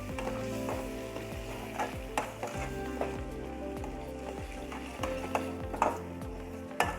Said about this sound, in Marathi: आता मी हा गरम मसाला पण टाकून घेते आणि चांगलं मिक्स करून घेते